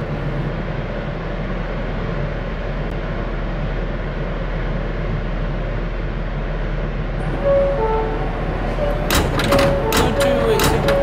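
New York subway N Express train rolling along the line, a steady loud rumble and roar throughout, with squealing tonal wheel and brake sounds and clanks rising near the end.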